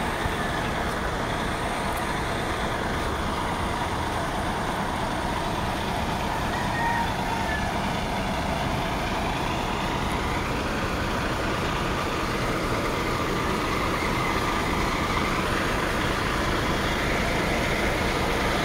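Shuttle bus in Quezon City with its engine running, a steady low rumble and idle under constant traffic noise throughout, no talking.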